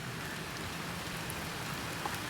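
Steady rain falls outdoors in gloomy weather, an even, dense patter with no voices.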